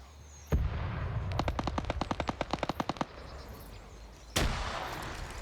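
Automatic gunfire with tracer rounds in the PvP shooter game Wargames: a loud sharp onset, then a rapid burst of about fifteen evenly spaced shots over roughly two seconds, and a second heavy blast near the end.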